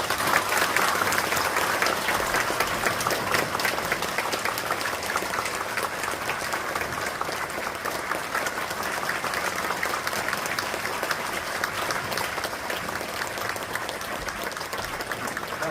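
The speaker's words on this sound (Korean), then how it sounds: "뜨거운 박수 부탁드립니다" Church congregation applauding warmly at a service installing a senior pastor and a new head pastor at Chungjeong Church: loud, continuous crowd clapping sustained evenly throughout, no voices standing out.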